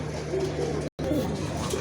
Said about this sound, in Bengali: শার্টিন কবুতর ব্লু শার্টিন কবুতর খুবই সুন্দর একটা পেয়ার